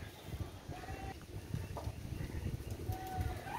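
A pigeon coos softly in low, throaty murmurs amid background bird and ambient noise, with a few faint higher calls, and no clear talk over it.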